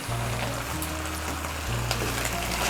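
Rice and egg frying in a pan as slit green chillies are tossed in, a steady close sizzle with a low hum running underneath throughout.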